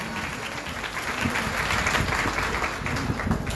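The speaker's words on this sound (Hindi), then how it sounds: "जोरदार ताली बजाइए इस गवाही के लिए" Applause for a testimony at a church service, a dense burst of crowd clapping, steady and fairly loud throughout, with no voices over it.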